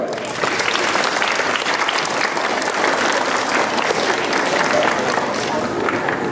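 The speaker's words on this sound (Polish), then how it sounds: "Wielkie brawo." Sustained, dense applause fills a school year-end ceremony, with many hands clapping steadily and evenly at full volume throughout, near and continuous.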